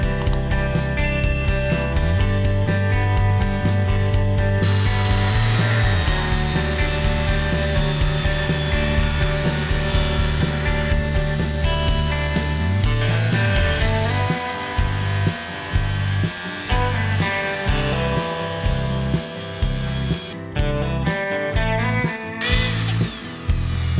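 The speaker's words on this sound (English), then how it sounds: "Then, cut along the marked line, a 60 centimeter section." A power tool cuts a 160mm-diameter PVC pipe to length, a loud sustained whine that shifts pitch and stutters into rhythmic pulses partway through, with no talking.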